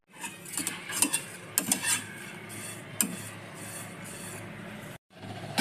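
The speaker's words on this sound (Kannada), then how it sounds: "ಶಾವಿಗೆ ಕೆಂಪಾಗೋವರೆಗೂ ಹುರ್ಕೋಬೇಕು" Vermicelli roasting in a pan while being stirred, a soft dry scraping and rustling with occasional utensil clinks against the pan, moderately quiet and near, broken by a brief pause.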